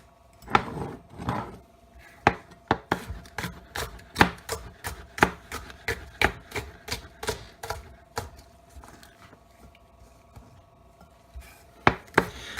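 Knife slicing mushrooms and vegetables on a cutting board for a Pontchartrain sauce, a steady run of crisp, close chops in irregular rhythm, loud against a quiet room with a faint background hum.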